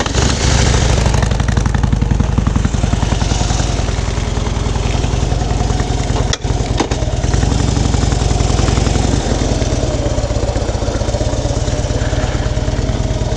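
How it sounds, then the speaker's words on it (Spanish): A 2006 Harley-Davidson Dyna Street Bob motorcycle engine idles steadily and loudly, with a deep, continuous throb close by and no talking. "la Harley Davidson Dyna FX DBI Street Bob del 2006."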